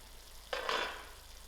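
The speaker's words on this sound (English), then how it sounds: "I'll give my tomatoes a nice mix and allow this to cook." Tomatoes in a pan of lamb mince and cauliflower curry get one brief stir, a short burst of scraping and sizzling against faint background quiet.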